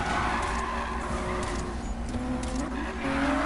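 A Lamborghini Huracan racing in Need for Speed, its engine a continuous loud drone with shifting pitch and faint tire noise, close and steady throughout with no talk.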